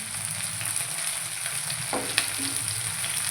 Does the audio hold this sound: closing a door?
no